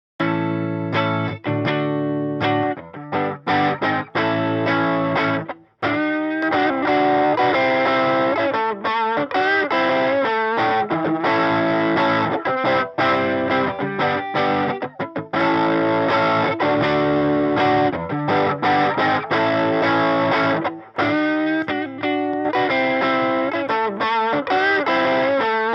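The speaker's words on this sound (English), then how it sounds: "Let's just try Tube Screamer into a Super Overdrive just for fun" An electric guitar running through a Tube Screamer into a Super Overdrive pedal plays a continuous, loud, driven passage of chords and riffs with a mid-heavy crunch for about 25 seconds, with only brief gaps and no talking.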